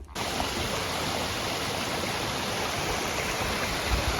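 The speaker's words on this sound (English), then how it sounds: "Cool little waterfall." A small waterfall in the hills of the Lake District gives off a steady, even rush of falling water, close and continuous, with no break or voice.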